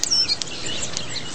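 European starling calls: brief high chirps and whistles right at the start, followed by a faint outdoor hiss.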